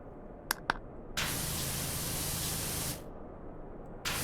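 Pressure washer water spray in PowerWash Simulator, a steady broad hiss that runs for about two seconds and then cuts off abruptly, preceded by two small clicks, with the spray starting again at the very end.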